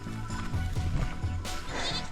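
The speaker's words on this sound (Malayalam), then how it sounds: "കളറുള്ള ആടല്ലേ" A colorful goat bleats several times at close range, its wavering cries repeating over a short stretch amid faint background noise.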